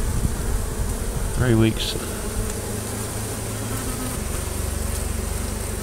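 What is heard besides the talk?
bee swarm buzzing during hive removal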